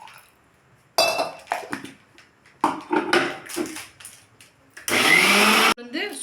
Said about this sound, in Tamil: நம்ம கொஞ்சம் தான் போட்டு அரைச்சோம்